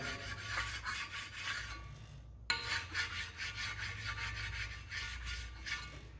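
Lapping down the metal mounting surface of a Quincy compressor by hand: rapid, even rasping strokes close up at moderate level, with one brief pause and a sharp knock midway before the strokes resume.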